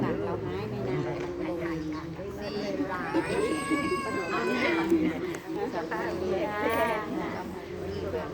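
A cat meows repeatedly in rising, wavering cries over steady background chatter from people talking at a birthday celebration for a monk.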